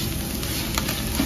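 Homemade regional pepper paste hits a hot pan while filling for içli köfte cooks, giving a dense, steady, close sizzle with light stirring over a brief moment, and no talk.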